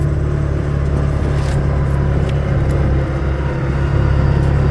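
A utility vehicle (mule) drives along on a homestead with a steady, loud low engine rumble and road noise close up, without talking.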